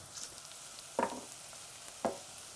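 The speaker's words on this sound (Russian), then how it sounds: "Когда нагреваются специи в масле, они источают такой рождественский какой-то аромат." Spices heating in oil for a baked pork rib and cabbage dish give two brief close bursts of sizzle and stirring, about a second apart, over a faint steady frying hiss.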